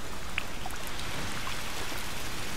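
Steady rain falls in the video game A Plague Tale: Requiem, a constant soft hiss of drops with a few brief taps, even and unbroken throughout with no talking.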